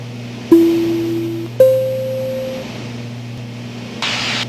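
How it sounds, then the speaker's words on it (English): Aircraft avionics give a top of descent alert from the VNAV profile as two clean electronic tones, the second pitched higher, each held about a second over a steady cockpit hum, then a short burst of noise. "that sound you heard was my top of descent"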